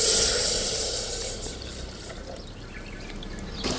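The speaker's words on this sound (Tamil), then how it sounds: "புளிஞ்சி வச்ச தேங்காய் பாலை ஊற்றிக்கலாம்" Coconut milk pours steadily with a soft splashing hiss, loudest at the start and easing off, then a brief swell near the end.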